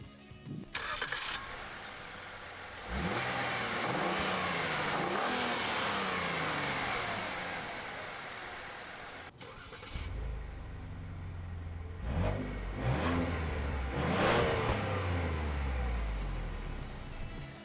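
A 2017 Ford Fusion Sport's 2.7-liter twin-turbo EcoBoost V6 starts and revs, rising and falling in pitch through several accelerations, loud and close, with a throaty low rumble in the later surges.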